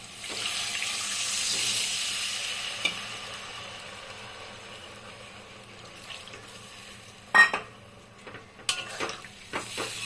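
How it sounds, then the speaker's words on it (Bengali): Water is poured into a pan of fried egg curry masala, making a steady gushing, sizzling pour that fades out, followed by a few sharp clanks of a pan and utensils. "তা এখন আমি জলটা দেব"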